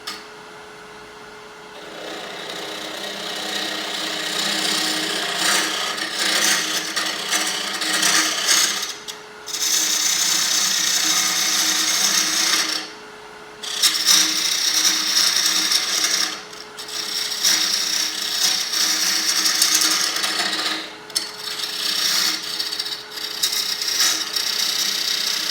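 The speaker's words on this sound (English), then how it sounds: "This is a 1/4 inch gouge." A quarter-inch hand gouge carves purpleheart wood in a series of rough, rasping push cuts, each lasting a few seconds and separated by brief pauses, close and steady with no talking.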